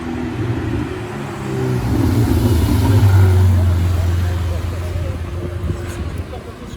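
A Ferrari 488 Spider drives past on a Monaco street, its engine note swelling to a loud, close peak midway and then fading as it moves away, with people talking over it.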